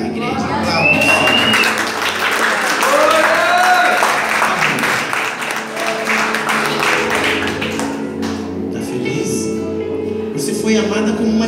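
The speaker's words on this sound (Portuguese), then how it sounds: "Aplausos." A church congregation claps during a service, a sustained wash of applause with voices and a few whistles or calls mixed in, easing to a lower, scattered level toward the end.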